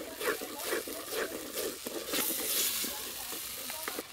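Green peas and spiced masala stir-frying in a pan for a Bengali pea and mushroom dish, a close, continuous sizzle with rhythmic scraping strokes of a spoon stirring through the mixture.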